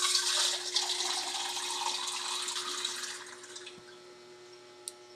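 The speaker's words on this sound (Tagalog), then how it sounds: "Lagyan na natin ng tubig mga idol." Water being poured into a cooking pot for chicken tinola with papaya and chili leaves: a steady splashing gush that fades out after about three seconds, then a faint clink.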